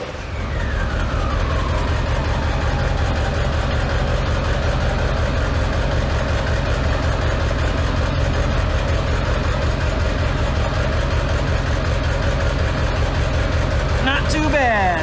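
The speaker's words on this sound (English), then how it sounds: "Diamond Eye, it's a dual exit exhaust for this truck." A 7.3 Powerstroke diesel truck fitted with a Diamond Eye dual exit exhaust idles with a loud, steady low rumble and a constant rhythmic diesel clatter, close by throughout.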